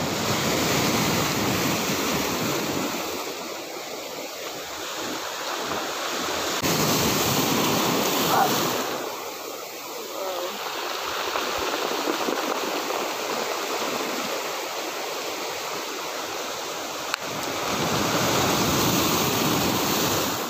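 Sea surf rolls onto the shore of Cabalitian Island, a broad, continuous wash of breaking waves that swells and eases in long surges, with wind buffeting the microphone and no voices.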